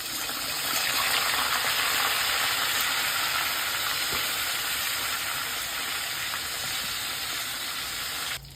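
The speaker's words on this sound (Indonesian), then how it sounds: "Terus saiki digoreng." Gourami fish frying in hot oil, giving a loud, steady sizzling hiss that holds evenly for several seconds and then drops off abruptly at the end, with no one talking.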